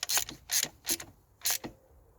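A ratchet tightens bolts on the fuel rail of a Ford Focus Mk1 1.4/1.6 engine, giving four quick clicking bursts at an uneven rhythm with short pauses between them, close and fairly quiet.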